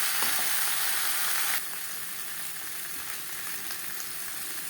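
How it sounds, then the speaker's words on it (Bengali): Potatoes fry with a continuous hiss of hot oil, loud at first and then settling to a steadier, slightly quieter sizzle. "মশলার সাথে আলু বেশ ভালো করে ভাজা হয়ে গেছে"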